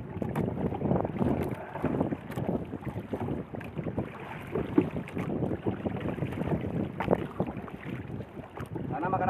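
A small fishing boat carrying two people line fishing on open water, with gusty wind buffeting the microphone and a steady wash of water and hull noise throughout.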